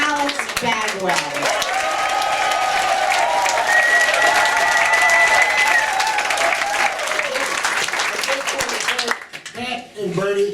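An audience gives sustained, loud applause for a composer at a tribute performance, continuous clapping that fades out near the end, with background music underneath.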